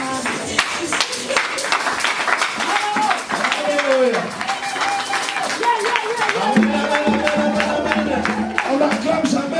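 A church congregation in Switzerland claps and cheers in praise, sharp hand claps crackling densely over a steady crowd roar while a voice speaks and calls out on top throughout.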